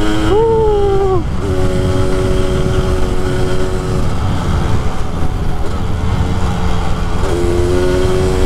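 A Yamaha RX King two-stroke motorcycle with a fresh original carburetor runs close by, its engine note rising and falling a few times over a steady, loud drone.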